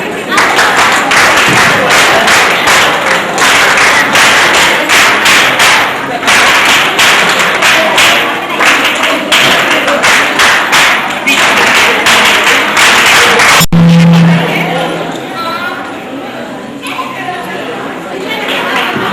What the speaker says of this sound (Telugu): మళ్ళొకసారి చప్పట్లు